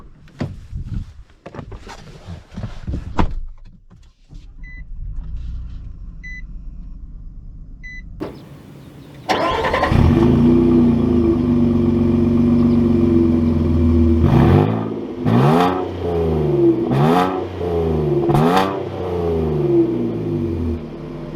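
A 2022 Nissan Frontier Pro-4X pickup truck: a few clicks and a short starter crank, then the engine catches into a steady loud idle with several rising revs, close and with no one talking.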